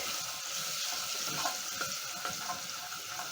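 Garlic cloves join browning onions frying in a pan, giving a steady, close bright sizzle with soft stirring clicks throughout and no voices.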